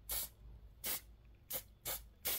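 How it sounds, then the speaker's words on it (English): Five short bursts of an aerosol hairspray can hissing from a distance onto a silicone resin mold, evenly spaced and crisp against a quiet room. "So I'm gonna take my hairspray."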